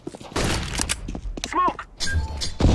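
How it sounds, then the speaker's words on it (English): Counter-Strike: Global Offensive flashbang grenade thrown amid close gunfire and impacts, sharp bursts and clatter with a ringing tone in the middle, mixed with game noise. "Flashbang out."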